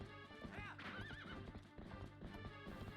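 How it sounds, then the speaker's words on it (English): Horse in a Zelda video game neighing loudly in a shaky, rising whinny over the rhythmic clip-clop of hooves, with game music and faint talk mixed underneath. "Why is Haunt so big compared to these other horses?"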